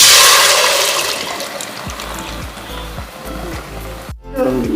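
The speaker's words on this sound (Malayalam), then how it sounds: "നമുക്ക് ഈ മാവ് ചൂടോടെ ഒഴിച്ചു കൊടുക്കാം" A loud rushing pour of batter sizzling into a hot pressure cooker, fading into bubbling and crackling, then a brief clatter near the end.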